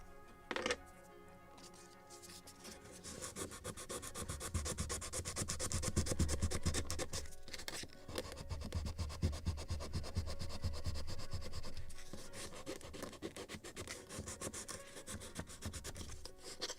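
A small wooden part for a model of the 1776 gunboat Philadelphia is sanded by hand in steady, close, continuous rasping strokes that rise and fall in loudness, with no talking.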